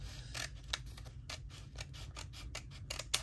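Scissors trim a yellow envelope in a string of quiet, crisp snips at an irregular pace, over a low steady background hum.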